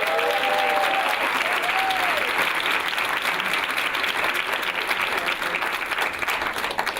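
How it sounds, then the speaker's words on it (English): A graduation audience claps for the graduates in a large room, a dense sustained wash of applause from many hands, steady and loud, with a few faint voices and a brief whistle early on. "I'd like to ask everybody in this room to give these guys a good round of applause."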